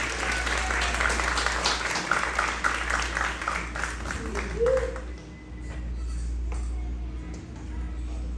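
A live audience applauds a singer with dense, crackling clapping for about five seconds before it fades away, leaving a low steady hum in the room.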